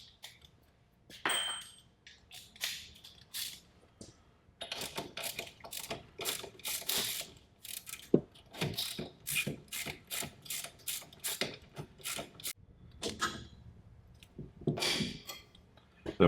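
A ratchet wrench works loose the suspension bolts, including a 19 mm bottom bolt, on a car getting JRZ RS Pro coilovers, giving bursts of quick close mechanical clicking with short pauses between runs.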